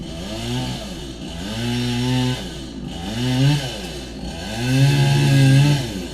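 A chainsaw cuts fallen dead wood beside a road in Maine, its engine revving up and down in repeated surges, loud and close.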